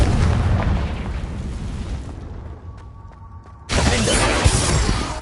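A Confringo blasting spell goes off in Hogwarts Legacy on PS4: a loud, dense burst of crackling explosion that thins out, pauses briefly with a few faint clicks, then erupts again in a second heavy blast.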